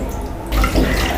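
Milk is poured into a pan for a fruit custard, starting as a quiet hiss and breaking into a loud, close, splashing gush of liquid after half a second.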